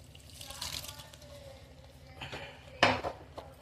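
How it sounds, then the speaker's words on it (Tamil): Water splashes into a pot of dill leaves and dal as it cooks, with clinking of metal cookware and a louder pour near the end, heard faintly under a voice. "கொஞ்சம் தண்ணி ஊற்றிடுங்க."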